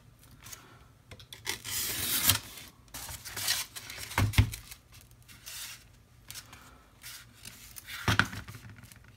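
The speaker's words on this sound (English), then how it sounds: "I'm going to use a straight edge to just finish the cut" A knife drawn along a straight edge cuts through foam in a series of close scraping, rasping strokes, separated by short pauses, with no voices.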